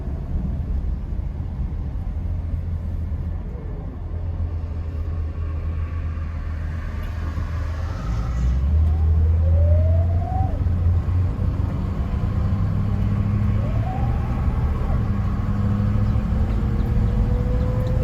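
A 1964½ Ford Mustang pace car driving, a steady low engine rumble with light wind noise that swells slightly midway as revs rise, continuous and fairly close, with no talk.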